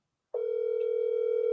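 A telephone line tone starts abruptly after a brief silence and holds as one steady, clear electronic tone through the rest of the clip, close and alone.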